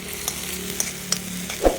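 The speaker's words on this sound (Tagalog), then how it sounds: "Kumukulo-kulo na yung ating sardinas oh." Close, soft bubbling and sizzling of sardines simmering in a pan with a few light clinks and stirring scrapes, ending in a brief louder clatter.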